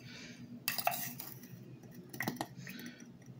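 Metal spoon clinking against a cup while stirring hot cocoa mix into coffee, a quick burst of close clinks followed by a softer pair of taps, with a low steady hum underneath.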